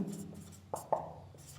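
Chalk or marker strokes on a classroom board during a Hindi-language geography lecture, a few short scratchy taps and swipes close by, with faint background hum and no talk.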